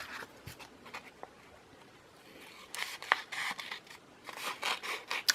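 Paper cut by hand with scissors for Christmas tree journal cards, with close, soft rasping snips and rubbing in uneven bursts, growing busier toward the end.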